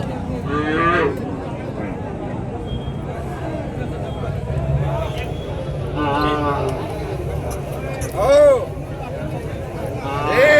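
Cattle lowing at the Madrappalli cattle market in Tamil Nadu, with several drawn-out moos rising at intervals over a steady crowd babble, while someone talks nearby about a bullock pair.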